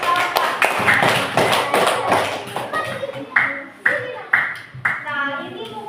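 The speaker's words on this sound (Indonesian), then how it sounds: "tepuk tangan dulu kawan-kawan" Hands clapping in a classroom, starting as a burst of group applause and then turning into a few sharp, separate near claps with children's voices in between.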